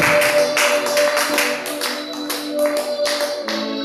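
A church congregation clapping and cheering for Jesus, with bursts of rhythmic applause layered over a sustained musical tone, fairly loud and close.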